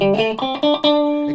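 Ibanez RG530BP electric guitar played through its bridge single-coil pickup, a few sustained, twangy overdriven notes ringing out loud and close with no talking.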